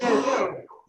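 A dog gives one short, harsh, hacking cough, loud and close, fading quickly.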